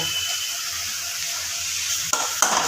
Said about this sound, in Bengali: মশলাটাকে ভালো মতো কষিয়ে নেব